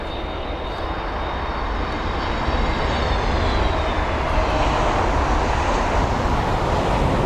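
Airliner arriving on runway 27 right at London Heathrow, a steady, loud roar of jet engines with broad rumble and a faint whining tone drifting downward, heard alone without voices.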